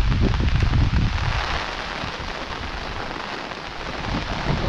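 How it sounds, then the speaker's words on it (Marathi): Heavy rain pouring down on a farm, a dense, loud, continuous roar of drops on surfaces, slightly heavier at the start, with no voices. "पाऊस येतात जोरात. हो बघा, जोरात केलं पावसान."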